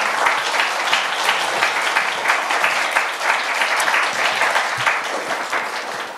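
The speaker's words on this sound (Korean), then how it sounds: "우리 교수님 나오실 때 우리 큰 박수로 환영해 주시면 감사하겠습니다" A church Friday prayer-meeting congregation gives a big welcoming round of applause for a visiting professor, dense and sustained clapping from many hands filling the room steadily at full volume from start to finish.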